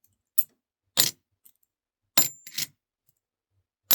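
Coins clink and click inside a Pokito coin box, a magician's prop, in a few short separate bursts with silence between them, close and crisp.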